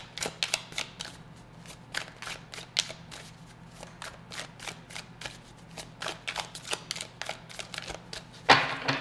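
Tarot cards riffle and shuffle in a steady run of crisp, close flicks and slaps, with a louder burst of snapping near the end as the deck is handled.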